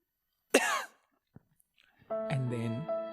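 A single sharp cough from a person feeling lactose intolerance after eating pizza, followed by a faint click, then a voice speaking.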